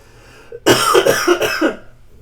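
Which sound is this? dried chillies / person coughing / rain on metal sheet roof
person coughing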